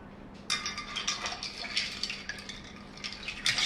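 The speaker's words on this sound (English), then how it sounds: "give this a stir" A cocktail with lime juice being stirred in a glass, light clinking and swirling of ice and liquid in quick repeated strokes, close and fairly quiet.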